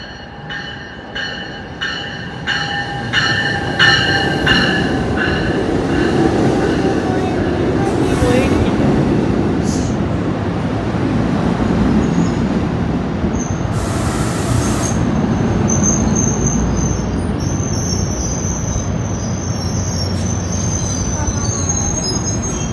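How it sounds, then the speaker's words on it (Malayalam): A train pulls into a station near the World Trade Center in New York, rumbling and building to a loud roar as its wheels squeal on the rails. Higher electronic tones sound as it settles to a stop. "അങ്ങനെ അതേ നമ്മുടെ ട്രെയിൻ വന്നു, കയറുകയാണ്."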